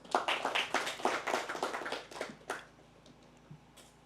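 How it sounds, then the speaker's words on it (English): An audience at the launch of an academy claps for about two and a half seconds in a burst of loose, overlapping hand claps, then quickly dies down to a few scattered claps and near quiet. "Can we clap for them?"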